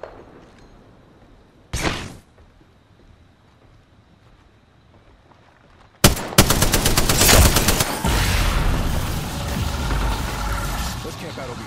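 Rapid bursts of automatic gunfire in a video game match, a short single burst followed by a long, loud, sustained volley of rattling shots with a player talking over the action.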